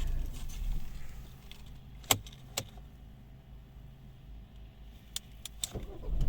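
A few soft metallic clicks and jingles of two car keys sound close by over the low, steady hum of a 2011 Volvo V50 D2 diesel engine, sparse and brief rather than continuous.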